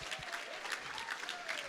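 Applause from the audience at the close of a Hawaii conference, a steady spread of clapping at moderate distance and fairly quiet, with a faint tone drifting in the background.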